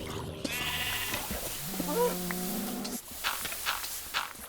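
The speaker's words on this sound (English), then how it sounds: "I'm gonna kill this sheep because he shouldn't be alive down here" A sheep bleats in the Minecraft video game, giving several wavering, nasal bleats close up at moderate volume, followed by softer underground game noises.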